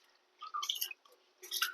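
Basmati rice being rinsed in water by hand, heard as a couple of brief wet swishing and squishing bursts separated by a quiet pause, close and fairly soft.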